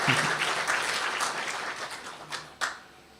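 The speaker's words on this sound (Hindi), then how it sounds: "एक बार अपने लिए फिर से ताली बजाएंगे।" An audience at a spiritual retreat class applauds itself, a dense wash of many hands clapping that carries on steadily and tapers near the end with a couple of final louder claps.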